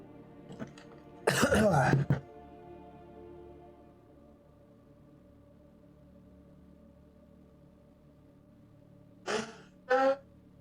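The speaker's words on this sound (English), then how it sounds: "Sorry, I gotta blow my nose." A sick person blows their nose in two short, loud honking bursts, followed after a long quiet gap by two more brief blows near the end, close to the microphone.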